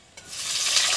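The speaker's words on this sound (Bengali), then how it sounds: "চচ্চর করে কাঁচা কলা একদম।" Raw plantain pieces hit hot oil and burst into a close, rising hiss of frying that swells within a fraction of a second and holds steady and bright, with no voices.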